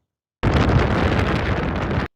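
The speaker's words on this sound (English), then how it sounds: "more often than not, it's very windy up on the top" A short burst of strong wind on a Dartmoor hilltop buffeting the microphone, rough and rumbling, starting abruptly and cutting off after under two seconds.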